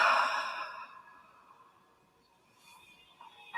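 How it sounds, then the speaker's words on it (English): A single slow, soft breath drawn in closely and quietly during a calm guided meditation, fading into near silence with no talking. "Place your hand over your heart and just take in a nice deep breath"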